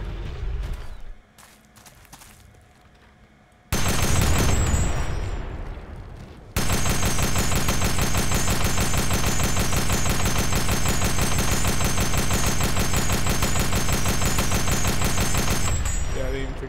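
Gunfire in Delta Force Xtreme 2 during the Sand Trap oil leak mission: scattered shots, then a loud burst, then a long continuous machine-gun stream that runs steadily for about ten seconds before cutting off.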